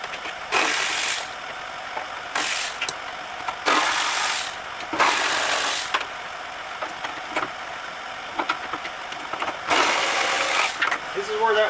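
Ratchet with a wobble extension working a clutch master cylinder bolt under a car's dash, heard as repeated bursts of close, loud ratcheting clicks separated by brief pauses.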